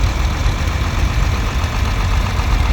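A 1968 John Deere 4020 diesel tractor fitted with a power chip rolls past in a tractor parade at a threshermen and collectors show in Albert City, Iowa, its engine rumbling steadily and close with a loud, continuous low-pitched throb.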